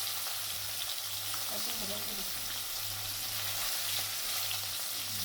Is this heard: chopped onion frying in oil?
yes